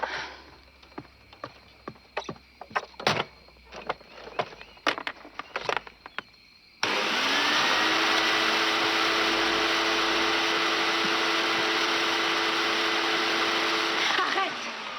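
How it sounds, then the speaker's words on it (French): A vacuum cleaner starts up indoors in the middle of the night to suck up spilled soil, then runs loud and steady with a constant whine for about eight seconds. Sharp clicks and knocks come before it. "Le bruit de l'aspirateur à 2h30 du matin"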